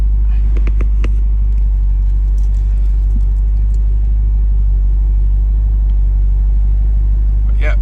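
An Audi R8 V8 engine idles with a deep, loud rumble up close, with a few faint clicks and noises early on and no revving.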